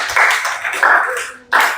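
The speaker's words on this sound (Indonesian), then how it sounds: "Tepuk tangan dulu untuk kelompok 2." Students in a classroom clapping for group 2, brief scattered hand claps in a few bursts with a short pause before a final burst.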